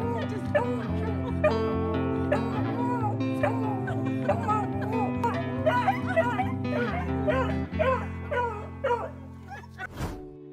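A dog whimpers, yips and barks excitedly at a reunion with its owner after long separation, over a steady music bed with a thump near the end.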